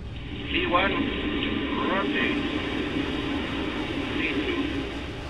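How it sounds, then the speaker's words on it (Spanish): An airliner on Aeroperú Flight 603 begins its takeoff roll after midnight in October 1996, the engine roar a steady, moderate rumble that swells slightly, heard under a person speaking. "el avión pronto rompe la inercia e inicia su carrera de despegue"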